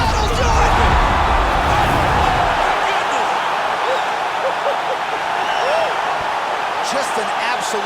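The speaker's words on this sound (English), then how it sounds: "Crowd is absolutely loving it." Arena crowd in the video game UFC 4 cheering and roaring after a fight-ending knockout, a dense, loud, sustained wash of cheers with a heavier rumble at the start that eases slightly.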